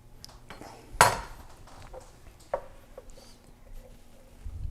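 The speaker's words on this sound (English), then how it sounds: "All right, so I'm gonna cut this in half." A knife cuts food in half on a board in a home kitchen while Lebanese stuffed grape leaves are being made: one sharp knock, then a few lighter taps and soft clatters, close by and alone.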